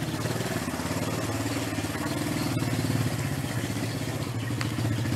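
A first motorcycle rides on a dirt yard, its engine running as a steady, continuous drone with a rhythmic mid-pitched putter throughout and no clear revving surges.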